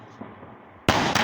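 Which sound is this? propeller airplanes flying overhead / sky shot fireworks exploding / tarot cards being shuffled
sky shot fireworks exploding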